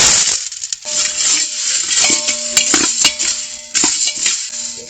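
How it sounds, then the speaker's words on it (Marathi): Whole black peppercorns being dry-roasted in a pan over low heat while making Malvani masala. There is a steady, dense rattle and clatter of hard spices skittering against the metal, stirred close up with scraping clicks. "हे मिरी भाजून घेऊया."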